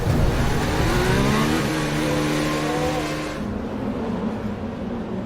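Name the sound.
Formula 1 cars on formation lap in Baku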